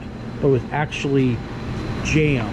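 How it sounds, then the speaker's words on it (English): A running heater in a garage workshop where a 1967 Mustang distributor is being worked on gives a steady low hum beneath a man's close, clear talking. "Sorry about the heater noise."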